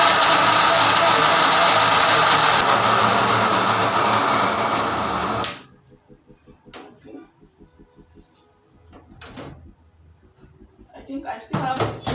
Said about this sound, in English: Turn on your blender